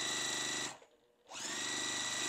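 A sewing machine stitching quilt block pieces for a Rose block, a close, steady whirring motor that stops briefly mid-seam and then starts up again at the same even speed.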